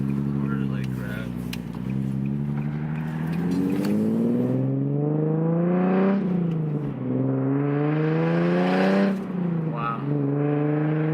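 A Stillen supercharged Nissan 370Z accelerates hard, its engine revving up through the gears with a rising whine and a brief dip between pulls while the tires break loose, loud and close, and a voice exclaims over it.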